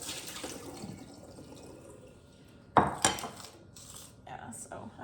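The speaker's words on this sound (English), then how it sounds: "so I'm going to go ahead and just drain these" Water drained from bowls of soaking amaryllis and ranunculus bulbs, with light sloshing and dribbling, then a few sharp clinks and knocks of the bowls being handled, close by and fairly quiet.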